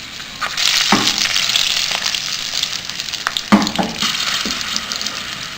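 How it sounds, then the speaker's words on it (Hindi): Green chilies fry lightly in mustard oil in a frying pan for a stuffed chili pickle, producing a close, steady sizzle with a couple of sharp clattering stirs. "फ्राई पैन में इसे मैं थोड़ा सा गर्म करूंगी और इसके अंदर मैं मिर्चें हल्की सी फ्राई करूंगी"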